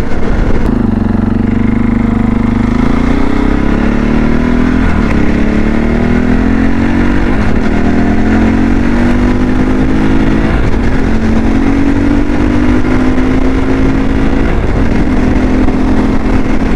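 A CSC RX4 dual-sport motorcycle cruising on the road, its engine droning steadily and loud close up, pitch rising gradually through repeated gear changes, with wind noise throughout and no talk.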